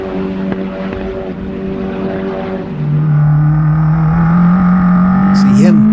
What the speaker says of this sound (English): All 303 horsepower of the turbocharged Honda 4-cylinder, the K20C1, lifted right out of the Honda Civic Type R.